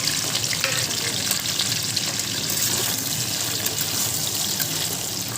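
Chopped onions sizzle and fry steadily in a hot pan, a continuous close crackling hiss with faint liquid bubbling and no talk.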